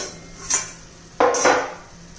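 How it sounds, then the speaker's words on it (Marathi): A lid comes off a cooking pan of garlicky chickpea-leaf greens, heard as two quick metallic clinks and scrapes close by, the second louder and followed by a short hiss of steam. "तर झाकण काढून पाहूया आपण."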